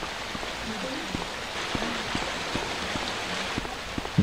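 Waterfall in Resident Evil Director's Cut: a steady, moderately faint wash of flowing water runs throughout, with scattered soft drip-like ticks and a voice speaking over it.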